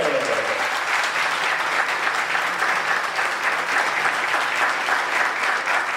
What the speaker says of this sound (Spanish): Con el aplauso de ustedes, recibimos al licenciado Luis Beconte.